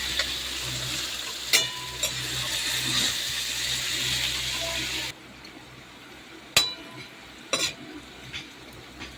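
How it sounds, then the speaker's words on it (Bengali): Potatoes frying in oil for an egg dish, giving a steady broad sizzle for about five seconds that then drops away to quieter kitchen sounds with a few sharp clinks of utensils. "আলুটা একটু ভাজা ভাজা হয়েছে"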